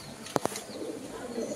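A Red English Nun pigeon, with two quick sharp flaps or clicks close by followed by faint, low background murmuring.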